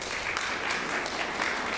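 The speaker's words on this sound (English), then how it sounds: "I'd like to give her a round of applause" An audience applauds for Carol Rasco at a senior Medicare talk, a steady wash of clapping hands filling the short moment without voices.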